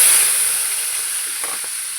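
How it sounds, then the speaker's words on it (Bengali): Tomatoes drop into hot oil in a pan and give a loud, close, hissing sizzle that gradually fades over a couple of seconds. "টমেটো ভাজবো, তেলটা দিয়ে দিয়েছি। তো তেলটা গরম হয়ে গেছে, এবার টমেটোটা দিয়ে দিই।"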